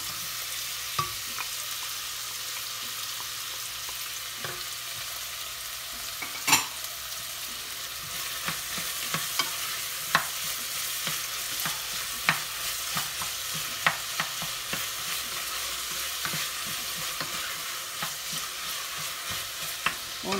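Garlic and onion frying in a pan give a continuous close sizzle, with frequent scraping clicks from stirring scattered throughout.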